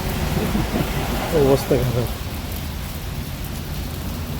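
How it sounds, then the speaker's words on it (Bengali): Heavy rain pours steadily and loudly on the road between Dhaka and Rangpur, a dense continuous hiss, while someone speaks briefly over it. "ঝুম বৃষ্টি হচ্ছে"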